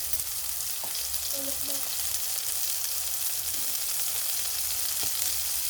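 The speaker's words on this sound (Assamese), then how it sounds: "মই চয়াবিনখিনি নিমখ আৰু হালধিৰ সৈতে অলপ সময় ফ্ৰাই কৰি ল'ম।" Soybeans frying in a pan with salt and turmeric for a soybean and potato curry, giving a continuous, even sizzle with a few small stirring clicks.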